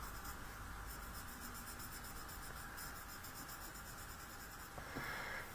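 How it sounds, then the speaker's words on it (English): Fine pen nib drawing around the edge of a stamped card, a faint, steady scratchy rubbing close up in a quiet room. "I'm just going to use the finer nib around the edge"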